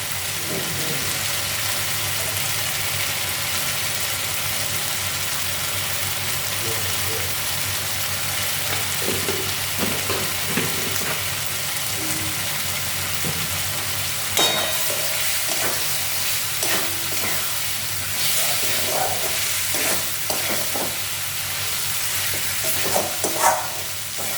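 Potatoes and egg curry frying in a pan after Kashmiri chili is added, a continuous sizzle with occasional scraping stirs and clinks of a spatula, no talk.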